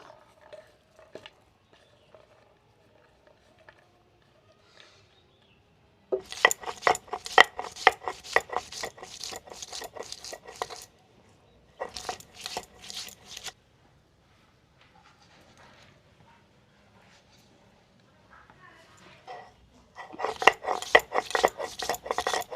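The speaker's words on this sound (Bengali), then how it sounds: "প্রথমে আদা রসুনটা বেটে নেব" Ginger and garlic are ground into paste by hand, in bursts of fast, rhythmic rasping strokes separated by quiet gaps with faint knocks and shuffles.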